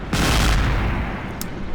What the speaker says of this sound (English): Now there's a gun going ham over there behind the wall in this little dugout.